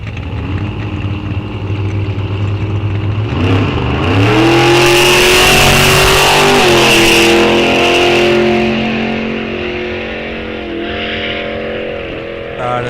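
A Ford Mustang from East Bethel, Minnesota launches on a drag strip at Rock Falls Raceway during a test-and-tune session, its engine rising in loud, climbing revs that peak and then fade as it pulls away.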